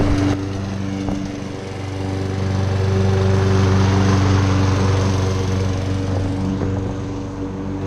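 A lawn mower engine runs steadily and loud close by during spring lawn care on centipede and St. Augustine grass, a continuous droning hum that swells slightly in the middle.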